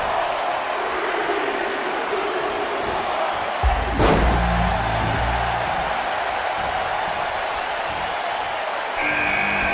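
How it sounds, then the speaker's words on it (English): A single heavy body-slam thud from a WWE 2K19 Elimination Chamber pay-per-view match lands midway through, booming low over a steady roar of arena crowd noise that continues before and after. "Harsh impact."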